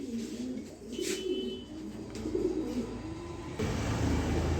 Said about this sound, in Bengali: একবারে ডাইরেক্ট বেলজিয়ামের কবুতর ওর পায়ে বেলজিয়ামের টেক আছে এটা ইনপোর্টের কবুতর